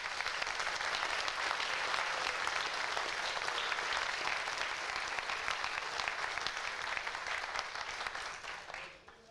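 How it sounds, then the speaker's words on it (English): Sustained applause from a church congregation welcoming new members, a dense steady wash of clapping that holds evenly for several seconds before tapering off at the end. "Let's all give our new members a round of applause."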